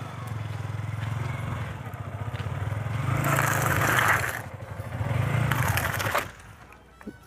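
A Yamaha R15 motorcycle rides slowly over a mobile phone, its engine idling steadily nearby while a scraping, crunching press rises and fades as the wheel rolls across, then the engine drops away.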